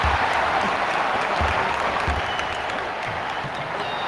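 Crowd applause from the ESPN NBA 2K5 basketball video game, a steady, dense clapping and cheering wash that holds at an even, loud level throughout with no talk over it.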